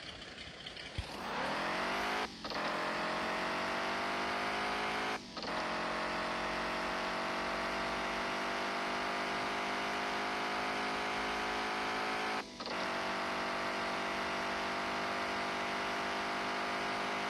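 Game engine of a 90's Ford F150 truck in Offroad Outlaws revving up from a start and holding a steady, loud, high-pitched drone as it accelerates, with a few brief gear-shift dips along the way.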